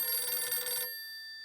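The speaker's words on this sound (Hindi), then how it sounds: "आपका मोबाइल बज रहा है।" A mobile phone rings at night with a bright electronic tone that holds steady, then cuts off partway through and leaves a faint fading tail.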